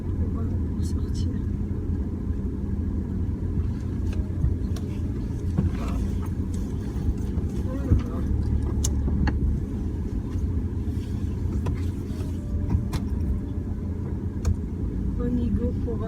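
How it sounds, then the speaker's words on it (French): Road traffic passing nearby, a continuous low engine rumble and tyre roar from cars going by, steady and moderately loud throughout. "Il y a trop de circulation"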